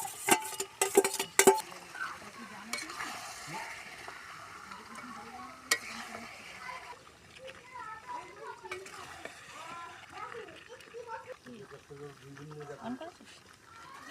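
Ginger paste with a little cumin frying in a pan as it is stirred: a soft, steady sizzle with scraping and a few clinks from a utensil, close up, while someone talks over it.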